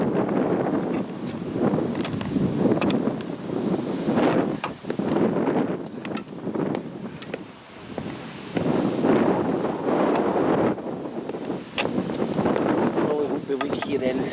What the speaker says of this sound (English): Probably won't be able to hear anything I'm saying because it's getting dead windy.